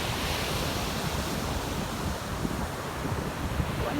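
Sea waves wash steadily by a water pier on a coastal hike, a constant loud rushing surf mixed with wind, with no voices.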